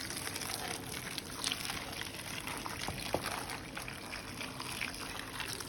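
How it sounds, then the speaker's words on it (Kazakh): Boiling water poured over tomatoes in a bowl to loosen their skins, a faint steady pour with light trickling and splashing, no talking. "Енді мына помидорлардың қабығы ашылу үшін үстіне қайнап тұрған су құямыз."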